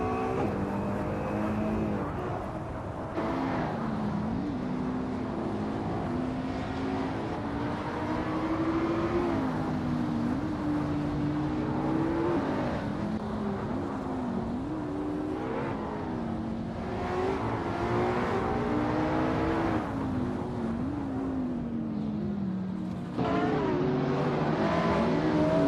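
Supercars racing in a video game, including a 2010 Spaniard GT Espano in the modern supercars class, with engines droning and revving steadily and loudly throughout, pitch rising and falling as cars accelerate and shift.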